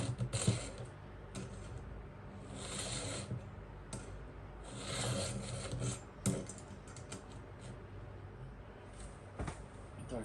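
A hand file rasps across chainsaw teeth in repeated strokes, each a short, scratchy grinding burst with brief pauses between, close by and fairly quiet.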